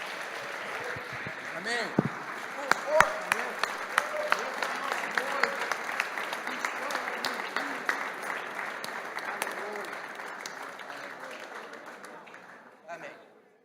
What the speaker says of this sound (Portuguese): Vamos aplaudir o Senhor, irmãos.